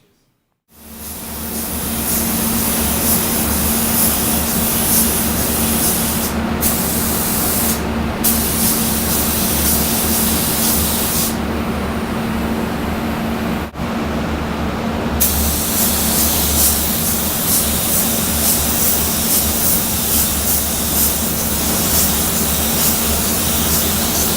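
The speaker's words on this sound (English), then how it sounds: "we're just going to paint this edge on a normal coat like you would paint anything" A spray gun lays metallic or pearl paint onto a car fender edge in a long, loud, continuous hiss. It starts abruptly, breaks off briefly a few times, then carries on steadily.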